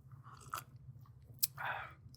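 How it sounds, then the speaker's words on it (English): A quiet, close sip from a Toronto Maple Leafs mug: a brief soft slurp and a faint clink of the mug against a surface, heard alone in a quiet room. "as I take a sip out of my Maple Leafs mug"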